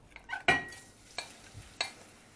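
Chopped onion frying in oil in a skillet, with a few sharp scrapes and clinks of stirring over a soft sizzle, close and fairly quiet.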